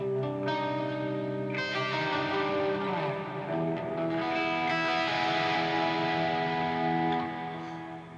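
Sustained electric guitar chords with overdrive, washed in heavy reverb and trailing delay echoes, ringing out steadily and fading at the end.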